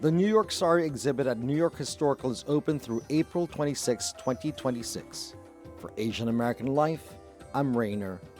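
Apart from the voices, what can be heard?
No everyday noises stand out.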